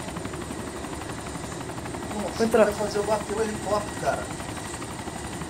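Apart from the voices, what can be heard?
helicopter in the video game DayZ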